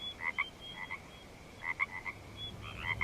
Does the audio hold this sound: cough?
no